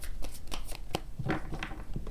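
Quick riffling and slapping of tarot cards being shuffled, a rapid papery flutter with a few sharper snaps, close by and moderately loud.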